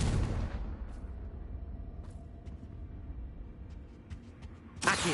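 A Confringo blasting spell explodes in Hogwarts Legacy, a loud opening burst with a roaring low rumble that fades into quiet, followed by faint clicks and a second sharp burst at the end.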